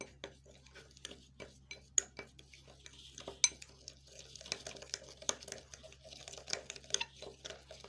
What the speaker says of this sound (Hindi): अब इनको हम अच्छी तरह से मिक्स कर लेंगे।